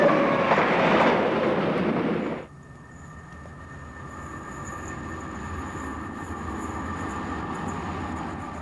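The British Rail APT experimental train runs on track with a loud rushing roar that suddenly drops to a quieter, steady rumble with a faint high whine, and no one talking.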